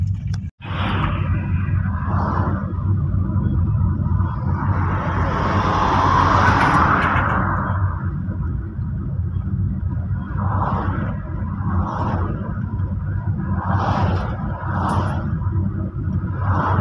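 A car drives at night on a road near Rongai, Kenya, its engine and tyre noise a steady close rumble, with several brief whooshes of other vehicles passing and overtaking.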